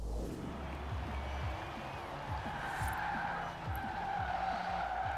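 A fully electric drift car in the racing game Forza Horizon 4 slides sideways with steady tire skidding and squeal over a continuous motor drone, with no engine revving throughout.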